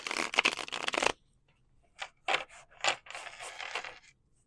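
Cards riffle in a long papery burst, then a pause, followed by several shorter flicking and bridging shuffles close by.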